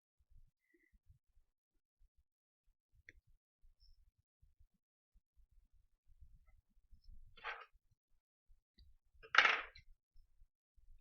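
Scissors snip through embroidery thread on a stitched piece, giving two short crisp cuts close by in a quiet room, the second one louder.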